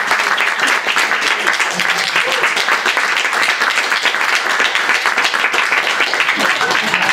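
A roomful of listeners claps after a poetry reading by Robert Pinsky at the Grolier, steady dense applause filling the whole stretch without a break.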